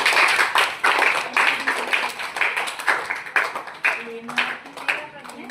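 An audience at a school quiz programme breaks into bursts of rhythmic clapping, close and lively, repeating in short waves with a voice briefly heard near the end.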